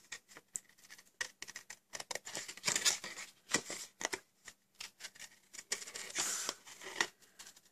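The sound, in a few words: scissors fussy cutting paper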